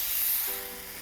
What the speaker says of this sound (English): then we'll spray it again to lubricate it for the film